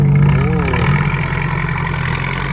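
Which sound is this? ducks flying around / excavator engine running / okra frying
excavator engine running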